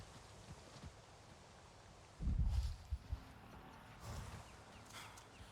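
Dire horses in the video game Avatar: Frontiers of Pandora make a short cluster of low, heavy hoof thuds and snorting movement, quiet beneath soft forest ambience, with a second fainter rumble of hooves following.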